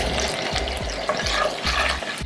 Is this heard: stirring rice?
yes